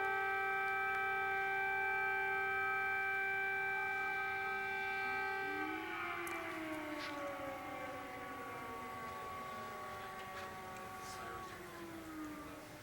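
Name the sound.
air raid sirens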